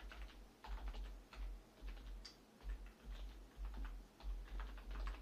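Computer keyboard typing a file name, quick irregular bursts of soft keystrokes close by, quiet and with no voice.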